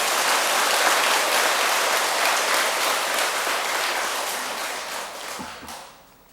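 Audience applause during a Buddhist monk's sermon, a dense loud wash of many people clapping that holds steady, then thins and fades out at the end.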